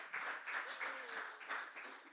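A small crowd claps in a soft, steady burst of applause that carries on throughout, heard from a distance and fairly faint.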